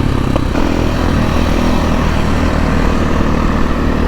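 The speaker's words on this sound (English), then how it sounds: "So this is my KTM 500 XCW." A KTM 500 XCW dirt bike on a desert ride. Its single-cylinder engine drones loud, close and steady throughout, with rough low rumble and no voices.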